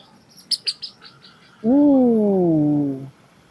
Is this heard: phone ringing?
no